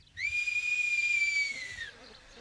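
A single sustained whistle from the whistled language of Aas in the French mountains, held at a steady pitch for more than a second and then dropping away, loud and clear against a quiet background.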